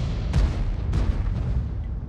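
Tank gun shot in World of Tanks, heavy low booming blasts with a rumbling tail, two distinct thumps in quick succession amid continuous low battle rumble.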